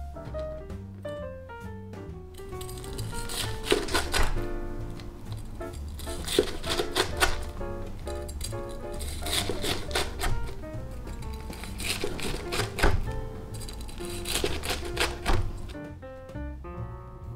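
A knife cuts through a crispy panko-crusted tonkatsu pork cutlet: crunchy slicing sounds and rhythmic taps on a board repeat steadily, close up, over soft background music.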